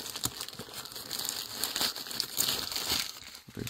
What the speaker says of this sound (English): So I will just take out the paper.